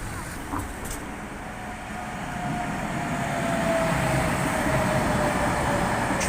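A Tatra KT8D5 tram passing along a Prague street, its steady rumble swelling louder as it nears, with a faint tonal whine and road traffic behind it.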